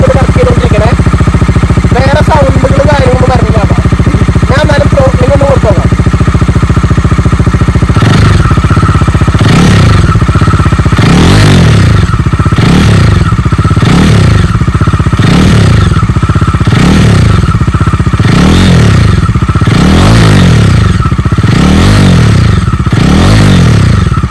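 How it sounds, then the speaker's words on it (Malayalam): Used second-hand motorcycle engine idling loudly, then revved repeatedly with the throttle in a regular series of rising and falling bursts, close up, with a voice speaking briefly near the start. "ജസ്റ്റ് നിങ്ങൾ സ്റ്റാർട്ടാക്കിയാൽ മാത്രം പോരാ, ജസ്റ്റ് ഒന്ന് ത്രോട്ട്ലിംഗ് ഒക്കെ ഒന്ന് കൊടുത്തു നോക്കാം"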